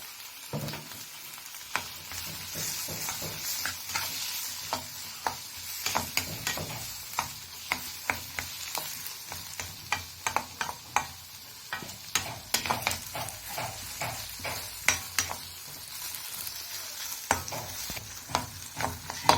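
Tomatoes and capsicum cooking in a pan for macaroni and peas, stirred steadily: a constant sizzle under a long run of sharp, irregular spoon scrapes and taps against the pan, close and without talk.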